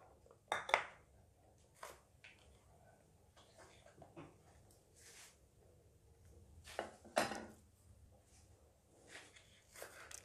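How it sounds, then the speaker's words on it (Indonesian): Leek being cut into pieces with a knife in a home kitchen, a handful of sharp knocks on a board spread apart with quiet pauses and faint clinks of dishes between them. "bawang preng akan saya potong-potong"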